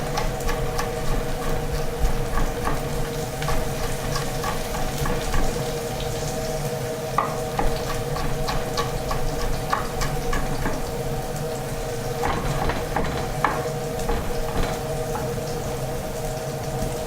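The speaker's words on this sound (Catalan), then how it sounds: "Posarem els pebrots que es comencin a saltejar amb la ceba" Peppers sautéing with lightly browned onion in a pan for a cod and vegetable dish, giving a steady close sizzle with scattered small pops and crackles throughout.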